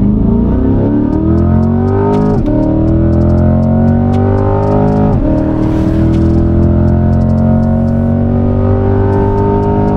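A Chevrolet Corvette C8 engine revs up hard along a stretch of road, its pitch climbing in repeated rising sweeps with two brief gear-shift breaks, loud and close throughout with no talk.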